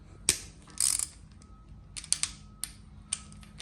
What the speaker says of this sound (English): I've just got a 10mm on a ratchet. We'll just crack them before we take them out with the gun